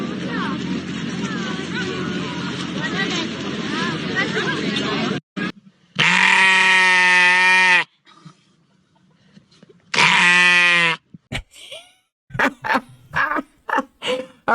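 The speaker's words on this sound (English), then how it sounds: "Our resident sheep had to make a guest appearance on this one." Sheep bleating, two loud, harmonic bleats close to the microphone separated by silence, coming after a stretch of noisy crowd and street sound, with brief clicks and bumps at the end.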